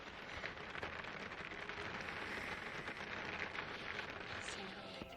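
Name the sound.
rain falling at a campsite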